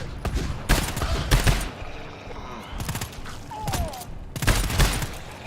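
Video game gunfire in repeated loud, close bursts of rapid shots separated by short pauses, with players' voices talking in between.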